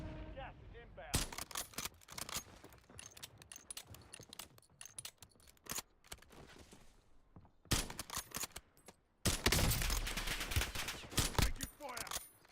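Gunfire in Call of Duty Warzone on the Verdansk map: loud rapid bursts and fusillades of automatic fire in clusters, separated by short quieter gaps, with heavier volleys toward the end.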